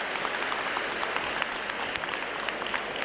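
Many people clap at a university achievers day ceremony to honor the students' parents, sustained crowd applause with some sharper individual claps standing out, continuous and moderately loud.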